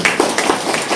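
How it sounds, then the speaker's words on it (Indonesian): A church congregation claps hands in a quick burst of overlapping claps, loud and close, lasting about a second. "Tepuk tangan dong."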